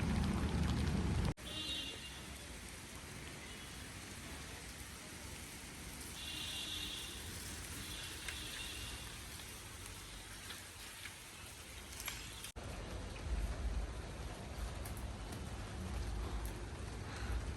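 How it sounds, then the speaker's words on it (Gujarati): Rain begins falling outdoors, a steady broadband hiss of drops on surfaces lasting throughout, moderately faint, with a couple of abrupt breaks and a slightly heavier patch toward the end. "અને હવે વરસાદ ચાલુ થઈ ગયો છે"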